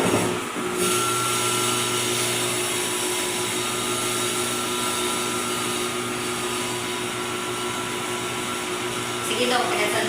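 Steady, loud whirring drone of a meat slicing machine cutting chicken breast for homemade tocino, running continuously with little change, while people talk faintly nearby.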